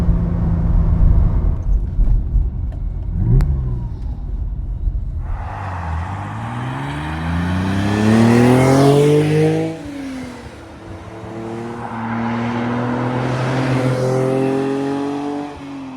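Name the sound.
1974 Ferrari 246 GTS Dino accelerating through gears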